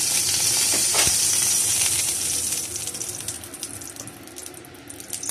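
Oil hissing and sizzling in a hot kadai as a spoonful of cold-pressed peanut oil goes in, a steady broad crackle that eases and thins toward the end, with no voice over it.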